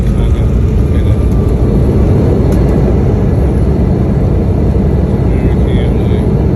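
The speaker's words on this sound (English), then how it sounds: "We're landing in O'Hara Airport" Loud, steady cabin roar from an American Airlines airliner landing at Chicago O'Hare, a dense low rumble of engines and airflow throughout with faint higher tones, with no clear talking.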